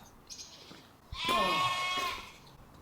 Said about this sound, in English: Sheep are playing up again.